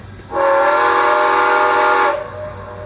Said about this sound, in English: F24 will rotate through the whistle and bell